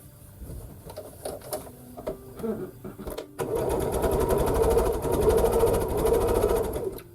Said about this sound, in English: Next thing is to sew one side of this unit together.